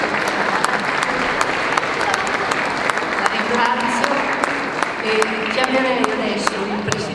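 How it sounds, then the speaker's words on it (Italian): Steady applause from a concert audience under the Portici del Grano in Parma, dense clapping sustained throughout, with a few voices mixed in underneath. "un applauso a questi ragazzi"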